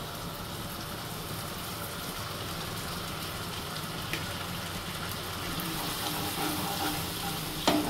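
Onions frying in a pan with ginger garlic paste stirred in for a Bengali mutton keema ghugni, a steady close sizzle with scraping stir sounds throughout and no talk.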